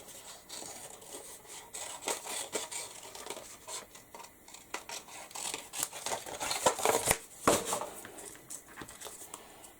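Repeated crisp snipping and rasping of scissors cutting through paper or card, close by, with rustling between the cuts and no talking.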